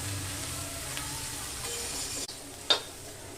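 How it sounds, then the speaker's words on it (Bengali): Brinjal frying in oil in a pan, a soft steady sizzle close by with a couple of scraping stirs of a spoon. "বেশ ভালো করে নেড়ে দেবো।"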